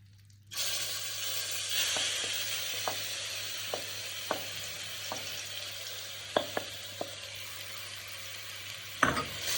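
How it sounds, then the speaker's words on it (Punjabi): Dates sizzle steadily in hot ghee on a gas stove for sweet-making. There is continuous frying hiss with scattered sharp pops and crackles, close and fairly quiet, with no voices. "ਘਿਓ ਆਪਣਾ ਗਰਮ ਹੋ ਗਿਆ ਹੁਣ ਆਪਾਂ ਇਹਦੇ ਵਿੱਚ ਖਜੂਰਾ ਪਾਵਾਂਗੇ"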